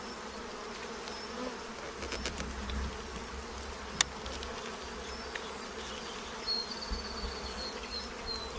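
Bees buzzing inside an opened hive of sealed brood, a steady low hum with a few passing insects droning closer, one sharp click midway and otherwise no voices.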